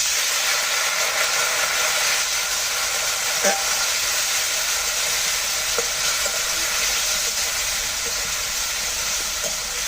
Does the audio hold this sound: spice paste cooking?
yes